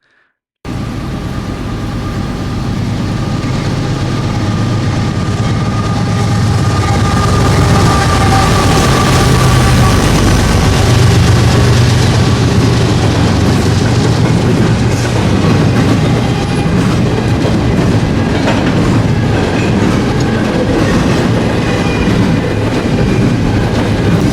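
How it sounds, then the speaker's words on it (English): A train rumbles past loudly and continuously, wheels clattering on the rails with occasional metallic squeals, close by. "watch some passing trains while I waited for the Amtrak to arrive"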